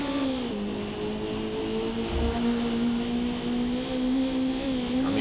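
A race car engine screams through a hot lap in Forza Motorsport, a loud, steady high-pitched whine holding near one pitch with slight rises, continuous for several seconds with no talk.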